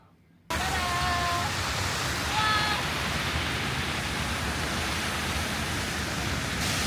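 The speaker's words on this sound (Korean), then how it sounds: "근데 비가 너무 많이 와서 뭐가 안 보여요" Heavy rain pours outdoors in Osaka, a dense broadband hiss that starts abruptly after a brief quiet moment and continues steadily, with faint brief tones over it early on.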